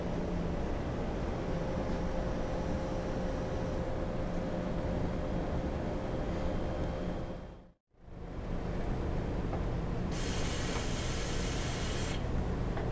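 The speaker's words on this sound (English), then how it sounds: "hit the start button. It's automatically going to dose the 1 micron slurry" An automatic sample polisher runs while dosing 1 micron slurry, giving a constant, even whir and hiss that cuts out briefly to silence and then resumes. A sharper spray-like hiss joins near the end.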